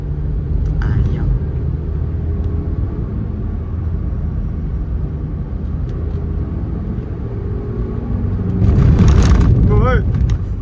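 Chicken transport trucks pass along a rough road in Kalimantan, a steady low engine rumble throughout that swells louder near the end as one goes by close, with brief higher mechanical squeals over it.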